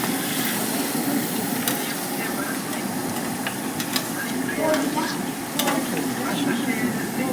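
Onion paste fries in a hot pan with a steady hiss and sizzle while a spoon scrapes and stirs through it, close and continuous, with a faint voice in the background.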